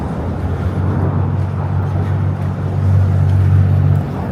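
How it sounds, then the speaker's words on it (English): Regular planes taking off near a walk through New York City toward Flushing, Queens, a loud steady low engine roar that swells slightly toward the end. "just regular planes taking off."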